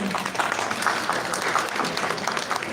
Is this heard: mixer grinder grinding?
no